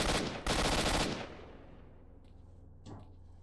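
A fast-firing AK rifle in the game STALKER: Shadow of Chornobyl lets off two loud rapid bursts of automatic gunfire, followed by a fading echoing tail and a few faint metallic clicks, with no talking.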